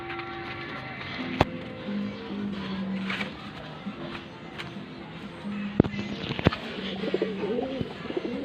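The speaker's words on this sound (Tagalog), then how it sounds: "Ayan po yung kalapati na butsyog. Butsyog na kalapati." Low, rolling coos of a pouter pigeon repeat steadily at moderate volume, broken by occasional sharp clicks and taps nearby.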